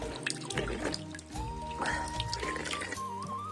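Water trickles and drips steadily from a stream beside bamboo, a soft continuous flow under faint background sounds while someone drinks from it.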